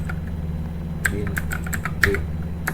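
Keys on a computer keyboard clack in a quick, uneven run of light taps over a steady background hum, close and moderately loud.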